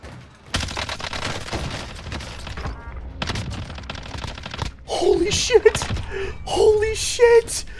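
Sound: gunfire in a Call of Duty video game match

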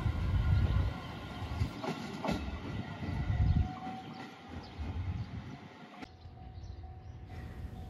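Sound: JR Shikoku 7000 series train bound for Matsuyama arriving

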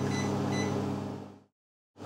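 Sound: microwave oven cooking a cake

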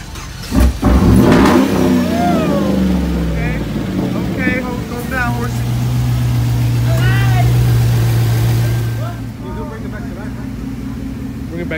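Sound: car engine cranking and starting after jump-start with cables

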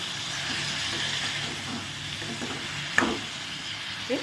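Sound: tomatoes sautéing and being stirred in a pan

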